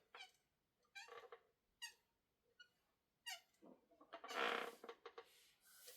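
Chair creaking in a run of high, squeaky strains, short repeated creaks spaced irregularly, then a louder, longer rasping squeak near the end, close and alone.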